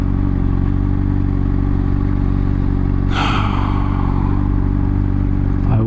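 Honda CBR600RR sport bike engine droning steadily and loud throughout while riding, with a brief clattering burst of wind or rev partway through; no talking.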